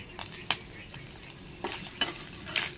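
Whole spices (dried red chili, cinnamon, green cardamom, bay leaves and cumin) fry in hot oil with a faint, steady sizzle, broken by several sharp crackles and pops and light stirring clinks.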